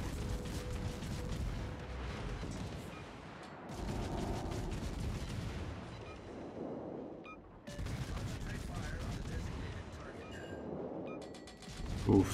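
Warship guns fire high-explosive shells in World of Warships, deep booming salvos rolling out in long, heavy bursts separated by brief gaps, with someone talking over the battle.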